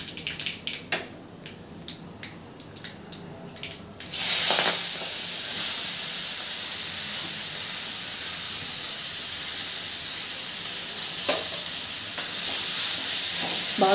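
Spinach and chukkakura greens being stirred in a hot pan, a loud steady sizzle and hiss after the greens go in, with scraping stirs near and close throughout.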